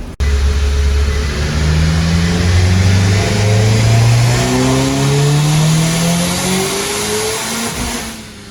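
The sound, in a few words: car engine revving during a dyno pull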